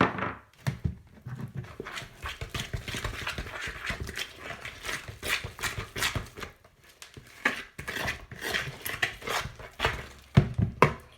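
Wet, sticky boilie bait dough being worked by hand, with irregular squelching slaps and thumps that run steadily and close-up, broken by a few short pauses.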